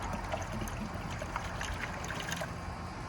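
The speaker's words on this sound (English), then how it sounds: "I'm going to go ahead and just pour a half a gallon of water into our tray here." Half a gallon of water poured from a jug into the tray of a Rhino ClO2 distributor, a steady continuous splashing trickle that runs at an even level throughout, fairly close and with no talk over it.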